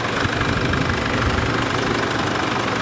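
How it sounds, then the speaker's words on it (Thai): A 2013 Chevrolet Trailblazer LTZ 4x4 diesel engine idles close up with a loud, steady rumble and an even knocking clatter, no voices over it. "เครื่องยนต์ดีเซลดูได้ไหมพวกคอมมันเร็วพวกเนี้ย เครื่องทนจริงๆนะครับ ทนมากเดี๋ยวไม่ฟังเสียงเครื่องนะครับ"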